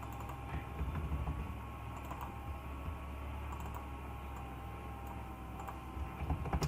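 Steady typing on a computer keyboard, with rapid, close key clicks running continuously over a low background hum.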